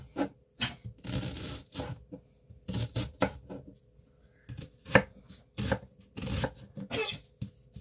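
Onions sliced thin with a knife before frying in cast iron, heard as close, irregular bursts of crisp cutting strokes in quick runs separated by short pauses, with no talking.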